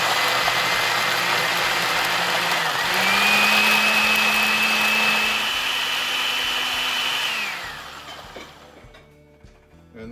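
Blender pulsing salsa verde ingredients, a loud steady motor whir that rises in pitch partway through, then cuts off and leaves light clatter.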